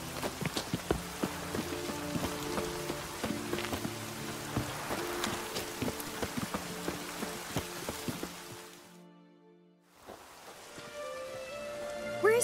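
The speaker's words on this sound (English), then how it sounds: "Looks like rain." Steady rainfall in The Witcher 3: Wild Hunt patters continuously on surfaces alongside layered game music, then drops out briefly near the end before resuming.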